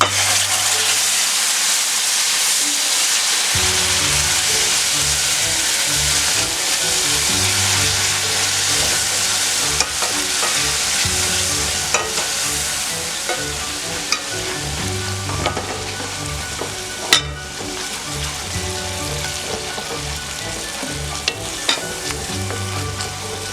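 Eggplant and potato curry sizzles loudly and continuously in a pan just after tomato sauce goes in, a dense frying hiss with a few sharp crackles and clinks near the end.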